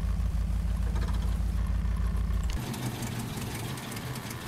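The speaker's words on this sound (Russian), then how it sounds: "А пока мы глушим мотор." A vehicle engine idles with a steady low rumble, then is switched off partway through, leaving a quieter hiss and faint background noise afterward.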